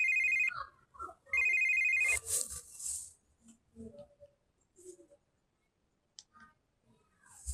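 A mobile phone rings with two bursts of a bright electronic tone, close and loud, then falls quiet while faint voices and small clicks follow.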